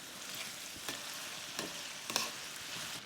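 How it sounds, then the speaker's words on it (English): Onion, bay leaf and rosemary sprigs sizzling gently in a casserole pan, a steady soft crackle with a few brief scrapes of stirring, fairly quiet and close, no voices. "I'm just going to let that cook for 3 or 4 minutes just to let the onion soften."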